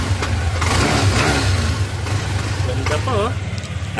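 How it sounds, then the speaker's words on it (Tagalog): A motor scooter engine revs up and down over a steady idle, loud and close, with someone speaking briefly over it. "pakinggan pa rin natin yung makina. Sige nga, i-rev natin"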